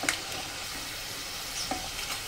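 Sabudana potato chakli frying in hot oil, giving a soft, steady sizzle with a couple of light clicks as the pieces are flipped.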